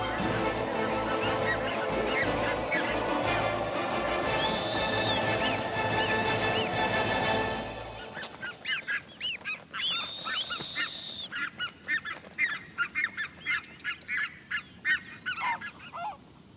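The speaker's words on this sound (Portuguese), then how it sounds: "os gansos começam a perseguir os bufos" Loud geese on the Arctic tundra honk repeatedly over a noisy, rushing background as they chase owls, then the honks continue in sharper, separated bursts as the background drops away.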